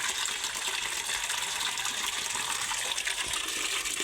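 Water gushes steadily from an open tap, a loud, continuous rushing stream heard up close with no talk over it.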